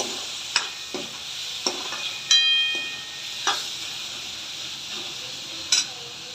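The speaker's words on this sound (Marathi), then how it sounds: "टोमॅटो हे आपण व्यवस्थित परतून घेऊया" Tomatoes sautéing in a pan, a soft continuous sizzle broken by several distinct scrapes and taps of a spatula stirring.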